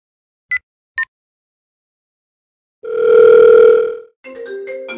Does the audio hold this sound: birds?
no